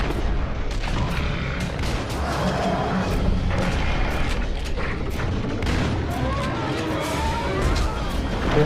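Rapid bursts of gunfire, one shot after another, crack out loud and dense through a chaotic horror scene where a man shoots at Siren Head, with constant booming and noise.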